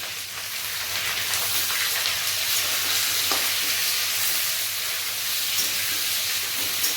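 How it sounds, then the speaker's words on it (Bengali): Onions fry hard in oil until browned, a loud, dense and continuous sizzle close by, with faint stirring sounds beneath and no talking. "এই পেঁয়াজটা লাল করে ভাজবো"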